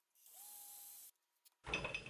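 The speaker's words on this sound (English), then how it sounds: "I've got a drill with my little flag set up on a tiny drill bit like I did before, and I'm just going to go ahead and drill that hole." A small drill spins a tiny bit through a hole on a Telecaster guitar build, giving a steady high whine for about a second, followed by a faint click and a burst of louder handling noise.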